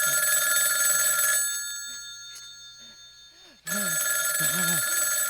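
Telephone ringing in a home, a loud electronic bell pulsing in repeated bursts, dropping out briefly in the middle and then resuming just as loudly.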